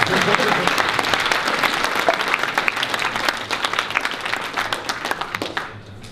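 A gaming convention trivia crowd bursts into loud, dense clapping that thins and fades toward the end, with a host's voice heard over it.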